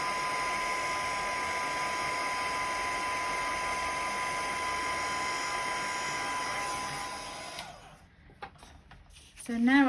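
Heat embossing tool running on low heat for card making, a steady broadband blowing whir held for about seven seconds before cutting off, followed by quiet handling noises.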